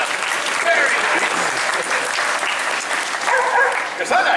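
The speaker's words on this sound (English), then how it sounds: "Give yourselves a round of applause." An audience claps at a theme park bird show, a full, even round of applause lasting several seconds with voices and a few shouts mixed in.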